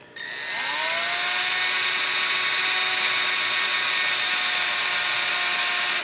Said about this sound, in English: drill the hole in the mounting plate here a little larger because I want the screw to pass through it easily